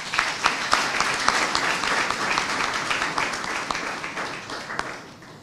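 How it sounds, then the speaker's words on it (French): An audience at a university lecture hall applauds, many hands clapping in a lively, uneven patter with sharper individual claps popping out, gradually thinning toward the end; no speech over it. "Si on peut l'applaudir, s'il vous plaît."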